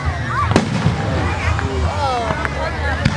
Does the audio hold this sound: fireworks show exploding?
yes